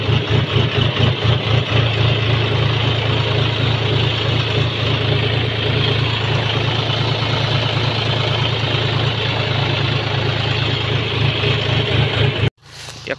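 A New Holland tractor engine idles steadily and loudly close by, a continuous low rumble with a slight pulsing beat at the start, cutting off abruptly near the end.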